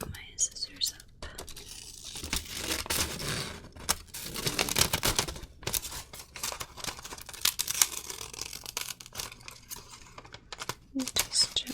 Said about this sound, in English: and just gently cut this heart shape